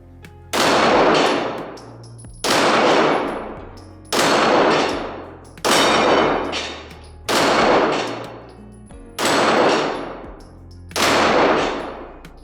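Seven loud, close shots from a Springfield Garrison 1911 9mm pistol ring out one at a time, evenly spaced about every one and a half seconds, each with a sharp crack and a short decaying ring-out.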